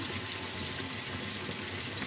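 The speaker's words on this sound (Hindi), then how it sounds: "थोड़ा सा पानी ऐड कर देते हैं।" Water is poured into a pan of chicken biryani masala simmering over a lowered flame. It makes a steady, faint, continuous splashing trickle throughout, with no voices.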